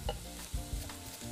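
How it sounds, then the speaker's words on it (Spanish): Onion and garlic fry in a pan while being stirred, giving a low, faint sizzle broken by several dull knocks and scrapes of the spoon at uneven intervals. "Hemos puesto la cebolla, vamos a ponerle un poquito de ajo, vamos a ir moviendo"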